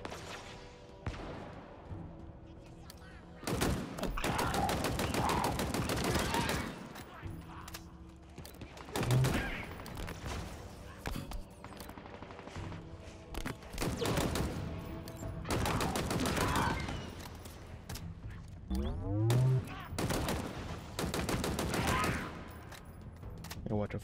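Sniper rifle fire in the Halo Infinite campaign on Legendary difficulty, heard as repeated loud sharp bursts spaced through a busy battle soundscape, with voices talking between and over the shots.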